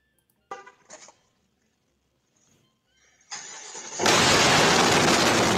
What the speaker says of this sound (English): he's going to give him a cold start